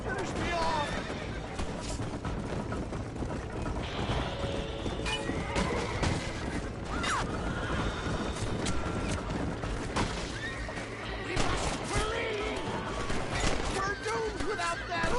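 A horse in the Red Dead Redemption video game neighs and whinnies over clip-clopping hooves, joined by bursts of gunfire and frequent shouted talk, all loud and busy throughout.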